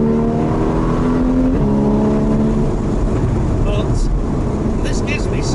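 A Porsche 981 GTS with sports exhaust accelerates, its engine note loud and steadily rising in pitch from inside the car, heard under someone talking throughout.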